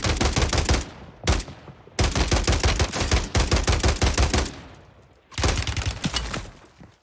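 Repeated bursts of rapid automatic gunfire from the video game Warzone 3, loud and close, arriving in several rattling volleys separated by short pauses.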